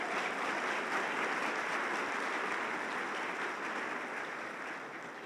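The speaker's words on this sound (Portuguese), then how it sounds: "Então aplauda ao Senhor e diga obrigado, Jesus." A church congregation applauds steadily, a dense, sustained wash of clapping that holds without pause and eases only slightly toward the end.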